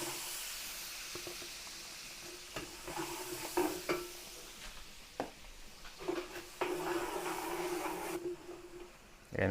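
Garlic sizzles in hot oil for a large batch of Filipino apritada, a steady frying hiss broken by scraping clicks of a spatula stirring the pan, close and moderately quiet.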